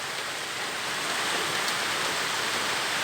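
A heavy rain downpour gives a dense, continuous hiss with no breaks, close and fairly loud, heard alone without talk.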